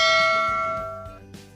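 A notification bell chime rings once, loud and clear, then fades, with a faint second touch near the end and no talk.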